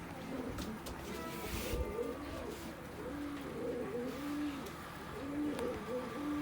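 White Baghdadi pigeons with a chick coo in soft, repeated low phrases close by, over a faint background murmur with a few brief knocks.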